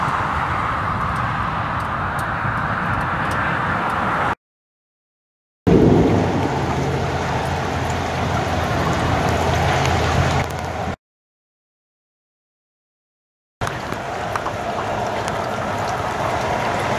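A thunderstorm over East Central Florida, heavy rain pouring steadily with deep rumbling thunder beneath, loud and continuous in three separate stretches broken by silent gaps.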